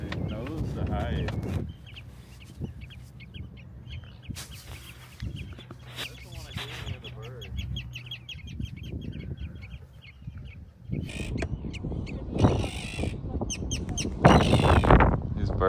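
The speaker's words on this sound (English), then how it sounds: "These birds are getting mad at me." Agitated birds call loudly near a fjord landscape on a Norway and Iceland trip, with repeated harsh squawks and bursts of calls, some close and loud. People speak intermittently between the calls.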